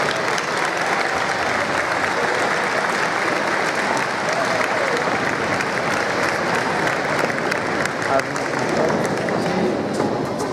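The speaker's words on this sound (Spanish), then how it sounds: "¡Fuerte el aplauso!" Sustained crowd applause at a ceremony thanking municipal music bands at a band gathering in Tazacorte, La Palma, a dense steady wash of clapping filling the whole stretch with a faint murmur of voices.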